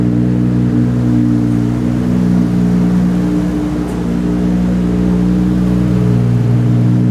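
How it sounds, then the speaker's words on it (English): Nissan R34 GT-R engine idling smooth and rock solid, a steady close-up rumble with an even, unwavering hum that holds throughout. "I already noticed it's idling smooth like crazy"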